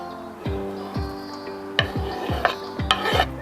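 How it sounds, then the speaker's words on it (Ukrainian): Potato salad with chopped green onion tossed in a bowl, a spoon clinking and ringing against the dish in repeated strokes, each tap leaving a short resonant tone, with soft scraping between, close and clear. "гарно все вимішую"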